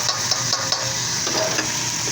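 Ground meat sizzles steadily in a hot pan while a spatula stirs it, with soft scraping clicks over a continuous close frying hiss.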